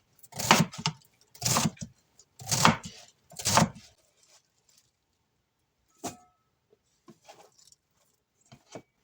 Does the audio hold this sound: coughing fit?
no